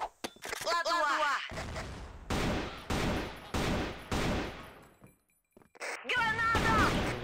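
Bursts of gunfire and a grenade blast in the online shooter CrossFire, with several loud, sharp volleys spaced about a second apart, brief quiet gaps between them and a voice speaking over the start and end.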